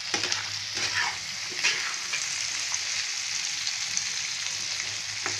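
Egg chana is mixed and fried in a pan, giving a continuous close sizzle broken by soft scraping stirs, with no talking.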